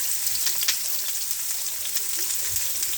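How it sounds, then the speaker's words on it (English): Onion frying in a pan over low heat, a steady soft sizzle and crackle with occasional pops, continuous and fairly quiet throughout. "Just fry a bit of onion, put it on low heat."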